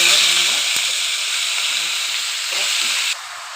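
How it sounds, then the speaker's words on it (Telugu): Mustard seeds and a chili fry in hot oil with a loud, steady sizzle and crackle, a brief pop near the start, and the hiss easing slightly toward the end. "ఆయిల్ వీట్ అయింది ఇందులో ఆవాలు వేసాము కొంచెం ఫ్రై అయ్యాక మిర్చి ఒకటి"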